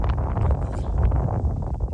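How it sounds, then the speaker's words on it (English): Steady outdoor wind gusting across an open rocky hillside above Greybull, pushing loose sand around, a continuous low rumbling roar with buffeting against the microphone. "wind's blowing some sand around"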